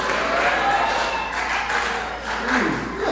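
A church congregation applauds during a service in Kolwezi, producing steady, dense clapping with a few cheers. A preacher talks over it through a reverberant sound system.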